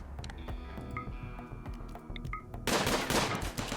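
Gunfire crackles during a RimWorld battle, a brief quiet stretch of scattered clicks and ticks giving way to a loud, rapid burst of rattling shots near the end.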